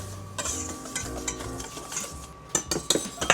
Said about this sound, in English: So we're going to whisk that together